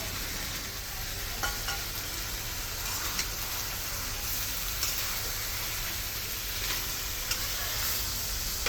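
Spices sizzle and fry in a pan for chicken biryani, a steady close crackling hiss with occasional stirring clinks throughout.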